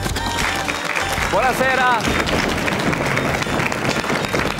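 Studio audience applause greets the host at the start of the final pre-summer episode of the Swiss RSI TV show Attenti a quei due, a steady dense clapping wash that runs the full length while a voice speaks over it.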